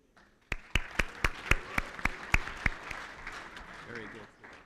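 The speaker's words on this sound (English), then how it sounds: "A big round of applause for them." A conference audience at a global pea industry event gives a panel a round of applause: sharp, evenly spaced loud claps ring out near the microphone for about two seconds over softer scattered clapping, then fade as a voice speaks.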